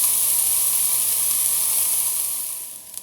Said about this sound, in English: So I'm just going to fry these off until they caramelise.